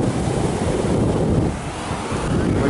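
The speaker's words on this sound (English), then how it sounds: "We're gonna show you the ocean." Ocean waves breaking on a beach, a loud continuous surf roar with wind buffeting the microphone, easing briefly midway before surging again.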